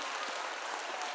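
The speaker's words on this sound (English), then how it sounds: "how about one more huge applause for our MCs?" Applause for the MCs at a Christian lower school fine arts concert, a steady wash of clapping from the audience, fairly faint and even across the brief moment.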